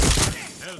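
Gunfire in the video game Far Cry 6: a short close burst of shots at the start, then a quieter tail, with a voice talking over it.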